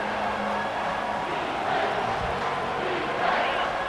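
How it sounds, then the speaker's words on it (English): Football stadium crowd at an Alabama versus Ole Miss game roaring on third down, a dense, steady wall of loud cheering and shouting that holds throughout with slight swells near the end. "this crowd is tearing the lid off this place"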